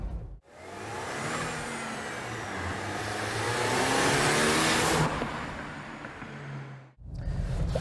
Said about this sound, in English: You get hints of that supercharger whine, but yeah, I mean, picks up speed really well, actually.